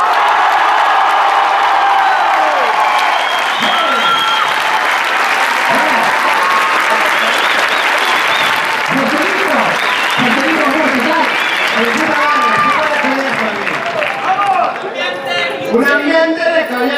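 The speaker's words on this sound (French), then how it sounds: "je vous demande de faire un tonnerre d'applaudissements pour Monsieur José Garcia" A cinema audience at a film premiere event gives thunderous applause with cheering and whoops, sustained and loud throughout, with voices calling out over the clapping and a brief burst of louder shouting near the end.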